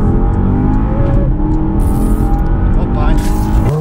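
A Porsche Panamera Turbo S E-Hybrid Sport Turismo, a roughly 2.5-tonne hybrid estate, accelerates hard with rising engine tones heard from inside, steady and loud throughout, with voices talking over it.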